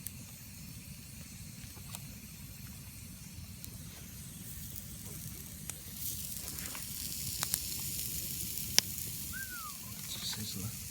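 Food sizzles on a hot stone beside a campfire on a cold night, a steady faint hiss with crackles that grows slightly louder partway through, with a few sharp pops and scattered brief sounds.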